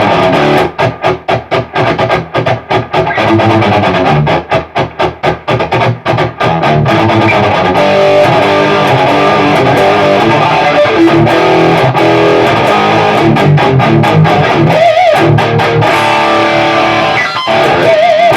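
Electric guitar driven through a Westminster Effects Exegete fuzz, overdrive and distortion pedal, loud saturated chords and riffs with choppy stabs at first, then sustained fuzzy playing.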